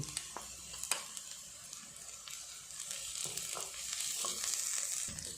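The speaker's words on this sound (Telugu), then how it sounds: "ఈ ఆనియన్స్ అనేవి బ్రౌన్ కలర్లో వచ్చేంత వరకు వేయించుకోవాలి" Onions sizzle and fry in a pan for a bitter gourd masala curry, a steady crackling hiss that builds slightly louder over time, with a few sharp scraping stirs near the start and end.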